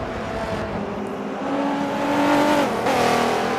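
Race car at Watkins Glen in Forza 7, its engine pitch climbing as it accelerates, then dropping sharply on a gear change before rising again, loud and close throughout.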